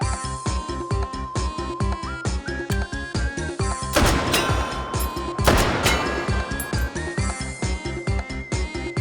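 Rifle gunshots from a WWII SVT-40 semi-automatic in the H3VR virtual reality game, fired during long-range shooting; sharp reports ring out in quick succession over a steady musical backing, with a louder burst of cracks midway.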